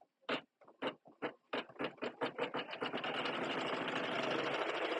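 An embroidery machine stitches a design onto a T-shirt, starting with separate mechanical thumps that speed into a fast, steady, rattling needle stitching close by, no voices.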